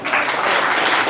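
A brief burst of dense clapping from the audience at the closing ceremony of the Himachal Pradesh state under-12 girls' chess championship, close and fairly loud.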